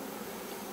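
Honeybees buzzing around an open hive being readied for a new queen in autumn: a steady, even hum filling the short moment, fairly close and unbroken, with no talk over it.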